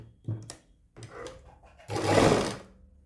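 A sewing machine stitches along a fabric strip for a back neckline, first in two brief stuttering bursts and then in a longer, louder whirring run, heard up close with no talking.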